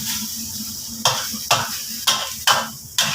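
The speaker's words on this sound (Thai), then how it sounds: "ผัดไปเรื่อยๆหอมเลยพี่น้องนะ" Pork leg stir-fried with red curry paste in a pan: a low sizzle broken by five rhythmic scraping strokes of a spatula, each sharp and loud, about half a second apart.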